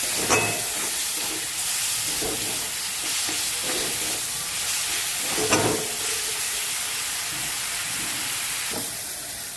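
Green chilli and garlic paste sizzling in a hot pan, a steady close frying hiss running throughout with a few brief clatters of stirring.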